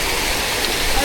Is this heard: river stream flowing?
yes